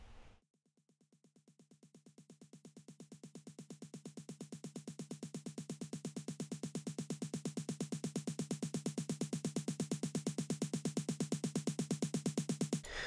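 A snare loop in a dance-track build-up fades in under a rising riser and crash cymbals, its rapid hits accelerating and growing steadily louder over about thirteen seconds with no voices.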